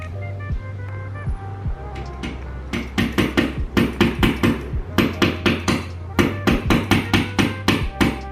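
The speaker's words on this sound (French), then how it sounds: "Ça, c'est mon marteau." A hammer strikes steadily indoors, a sharp series of evenly spaced close knocks in two long runs, preceded by softer taps and a low hum, with a brief voice early on.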